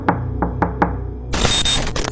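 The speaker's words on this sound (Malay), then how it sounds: "Dan tiba-tiba aku terdengar bunyi ketukan." Four sharp knocks in an uneven sequence, close and clear, sound at around 1 a.m. on a third-floor rented house door, followed by a burst of hiss.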